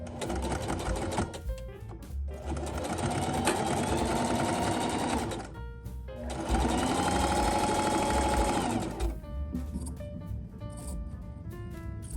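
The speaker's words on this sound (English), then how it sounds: "we are just going to sew these 2 panels together" A sewing machine stitches two fabric panels together for a thrifted clothing flip, running in two long, steady, close bursts of whirring with brief stops between them.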